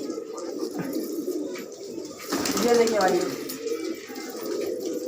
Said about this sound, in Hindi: कबूतर देखिए कैसा है ये